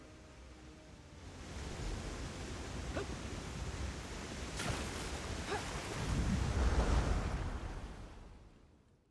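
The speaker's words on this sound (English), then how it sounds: "Come on, before the storm decides to sweep us away." Stormy seas in Elder Scrolls Online on Summerset: a dense, hissing wash of wind, rain and surf with low rumbles. It swells near the end, then fades out. No one speaks.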